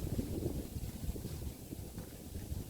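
Wind blows through a homestead garden on a gusty day, a steady low roar buffeting the microphone without pause.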